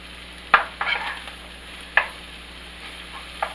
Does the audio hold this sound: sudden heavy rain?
no